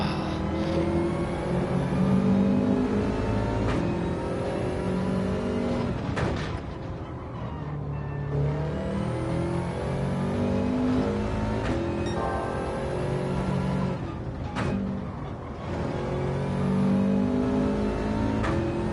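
Race car engines in Gran Turismo 7 roar loudly and continuously. The revs climb and drop with gear shifts, and the car brakes sharply into corners before accelerating again. No voices are heard.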